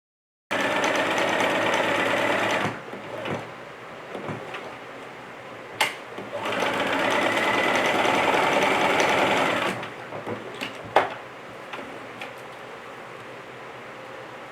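A sewing machine stitching pockets onto summer shorts runs in two loud, steady bursts, each followed by quieter handling clicks and fabric shifting.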